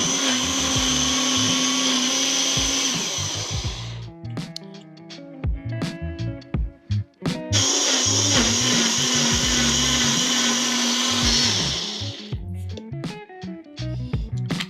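A blender whirs loudly through parsley and cilantro with stems, running in two long bursts with a break of clunks and knocks between them, close and with no talking.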